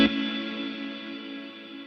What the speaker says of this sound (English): you can diffuse the reverb.